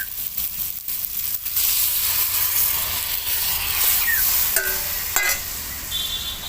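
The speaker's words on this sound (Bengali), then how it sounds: "এবার ডাল ঢেলে দিচ্ছি।" Mung dal pouring into a pan of fried fish-head masala, with a steady sizzle and hiss, soft stirring scrapes, and a few sharp clinks near the end.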